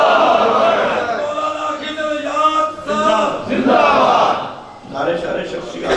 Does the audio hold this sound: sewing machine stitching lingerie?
no